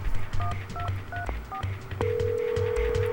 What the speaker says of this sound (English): I'm making a phone call